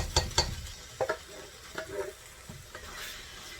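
Crushed tomatoes stirred into a pot of chicken tortilla soup: a series of close, irregular scrapes and clacks of a spoon against the pot over a low simmering hiss, with no talk.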